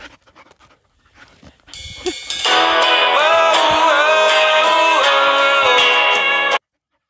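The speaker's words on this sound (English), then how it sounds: "My goodness, she's such a puppy." A dog pants rapidly and excitedly up close for several seconds, a continuous breathy rhythm that stops suddenly.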